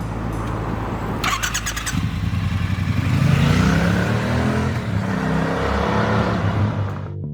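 A Triumph T120 motorcycle engine, loud and close, with a throaty rumble rising into a revving swell that holds steady, then fades away at the end.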